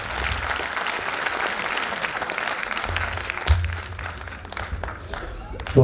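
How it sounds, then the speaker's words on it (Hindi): Sustained audience applause at a Hindi kavi sammelan poetry recital, dense clapping from a large crowd running throughout, with a brief louder burst midway and faint voices mixed underneath. "एक बार बड़ी तालियों के बीच आवाज दें"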